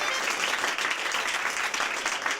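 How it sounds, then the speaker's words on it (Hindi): Steady applause from a crowd fills the whole stretch, dense and even clapping at close range with no pauses. "तालियां"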